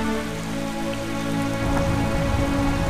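Steady rain falling and pattering on surfaces, a constant dense hiss with a low hum underneath that thickens partway through, no voices.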